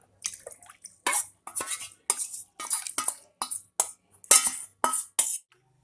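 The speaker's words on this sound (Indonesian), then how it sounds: "kita aduk-aduk juga tepung maizenanya agar tidak bergerindil" Spoon stirring cornstarch and water in a pot for homemade ice cream, about a dozen quick metallic scrapes and clinks at a steady, rhythmic pace, close by and clear, with no voices.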